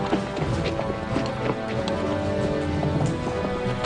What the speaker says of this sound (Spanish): La unidad auxilia, formada por mercenarios germanos a caballo, se encarga de abrir y escoltar la marcha.